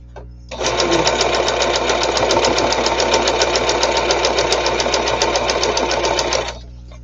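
A sewing machine runs a straight stitch on fabric masks, a loud, close, continuous rapid mechanical whir and knock that lasts about six seconds and then stops.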